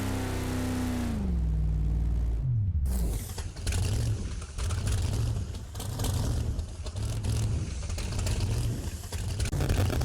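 A Bigfoot monster truck in BeamNG Drive makes a solo bye run, its engine note sliding down then surging back in repeated revving pulses, loud and steady, with clanking mechanical noise over the top.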